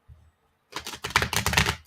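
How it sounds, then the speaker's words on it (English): A deck of cards being shuffled: after a brief low rumble and a short silence, a rapid burst of crisp riffling clicks runs close and loud to the end. "I'm having trouble shuffling this cards"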